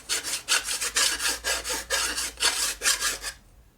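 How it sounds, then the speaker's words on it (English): Steady rhythmic rasping strokes of a grinder or file against a metal part of a custom Harley Evo chopper during a rebuild, about a dozen close, even passes that stop abruptly near the end. "When you grind it, make pressure."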